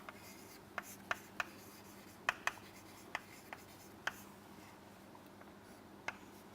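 Writing during a physics lecture, with a series of faint, sharp taps and scratches at irregular intervals over a quiet room background.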